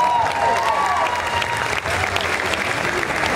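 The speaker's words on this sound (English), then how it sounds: "a big round of applause for their amazing inspiration" Loud applause from a crowd at a Halloween Horror Nights Scare LA panel, a continuous roar of clapping with some cheering voices mixed in, steady throughout.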